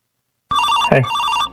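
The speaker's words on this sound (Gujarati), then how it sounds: "હા મારા જીજાજી નો ફોન આવ્યો" A phone rings in a home setting, one bright electronic ring burst starting abruptly and holding steady for about a second.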